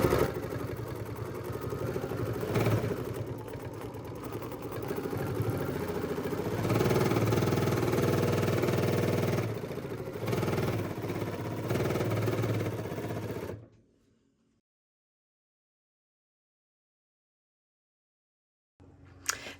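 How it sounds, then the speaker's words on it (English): A sewing machine stitching a paper-pieced gingerbread house quilt block, run on an on/off foot control: a steady, fairly loud mechanical whir and clatter that runs for about thirteen seconds, then cuts off into silence. "now we're gently going to stitch"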